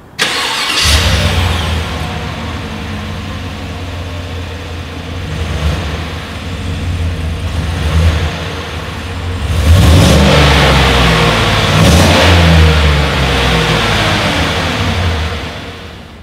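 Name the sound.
SUV engine starting and revving, exhaust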